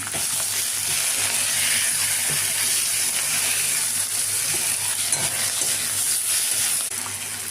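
Half a tomato fries in a pan for a fish-head mung dal, giving a loud, steady sizzle and hiss that holds close and continuous throughout.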